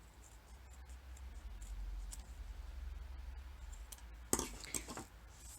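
Scissors trimming thread on a bead loom earring, a few faint snips and small clicks close by against a quiet room hiss, with a louder crisp cut near the end.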